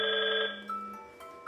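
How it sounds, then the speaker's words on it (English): A Gemtek intercom handset and paired mobile phone ring after the doorbell button is pressed, giving a short, loud electronic tone burst that cuts off, followed by fainter chirps. "the host and the mobile phone will ring."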